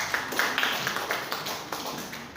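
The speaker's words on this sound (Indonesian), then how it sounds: "Tepuk tangan untuk kita semuanya." An audience claps at an Indonesian declaration event, giving a brief burst of applause with sharp individual claps over a steady wash of hands, at a moderate distance.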